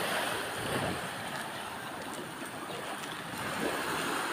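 Choppy, rough sea under a cloudy, stormy sky, heard as a steady broadband wash of waves and wind that holds a constant level throughout with no voices.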